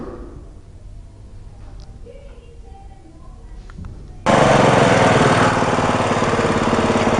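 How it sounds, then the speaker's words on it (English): A 17-horsepower red ride-on lawnmower engine starts up loud and close partway through, then runs steadily at a rough mid-pitched drone after a quieter stretch of background noise. "Roadside on a ride-on lawnmower, 17 horsepower, red beast."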